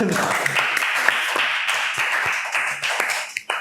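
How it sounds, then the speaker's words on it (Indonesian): Short burst of clapping from a small group on a podcast set, a few hands tapping unevenly for several seconds, with voices chattering over it and a couple of sharper claps near the end. "Tepuk tangan"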